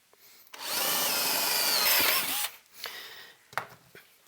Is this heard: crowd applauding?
no